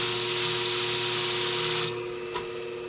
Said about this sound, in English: so I want to spray a little water on it